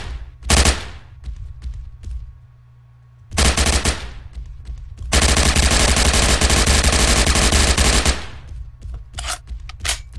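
Gunfire in the multiplayer shooter Riptide Revolution: loud, close bursts of automatic fire, a short rattle, a pause, then a longer sustained burst of several seconds followed by scattered single shots.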